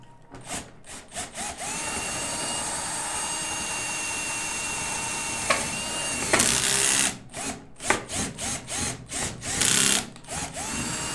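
A power drill runs through the wood and plastic of a case while its handle is being replaced, with a steady whine broken by several short bursts and pauses near the end.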